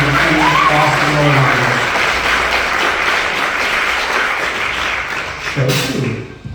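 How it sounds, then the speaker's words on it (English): An audience at a marching band celebration gives the student leadership team a loud, dense round of applause, continuous crowd clapping with some voices mixed in, briefly swelling again near the end. "Another quick round of applause for all of our leadership team and all of these student leaders"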